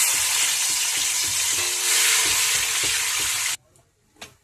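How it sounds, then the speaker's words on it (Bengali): Bitter gourd pieces frying in hot mustard oil in a wok, a loud, continuous close sizzle with faint stirring scrapes, cutting off abruptly to near quiet with one light clink. "তেলেতে উচ্ছে কটাই ভেজে নেব।"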